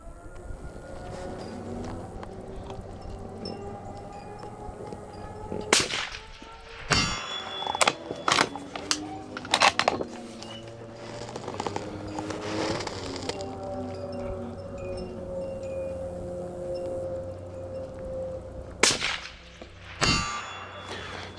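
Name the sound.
rifle shots ringing on a steel target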